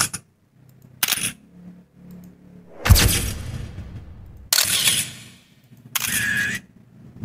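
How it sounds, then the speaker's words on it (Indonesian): Camera shutter sound effects: four sharp mechanical clicks spaced irregularly, each with a brief whirring tail, loud and close with quiet gaps between and no voices. "kita ketikkan kata kunci pencarian kamera shutter atau shutter kamera seperti ini nih"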